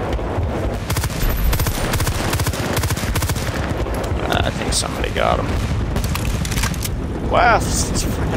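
Mortar rounds in Bad Company 2 on the Panama Canals map crash in as a run of heavy booms and crackling blasts, mixed with gunfire, while a player's voice talks over the barrage.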